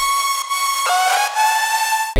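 A soloed synth lead from a rap EDM track rings out as a bright, sustained tone rich in stacked harmonics, sliding between a few held pitches with a brief cut near the end.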